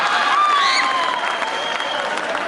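Applause rises from a mushaira audience, a crowd clapping steadily with a few high whistled cheers riding briefly over it.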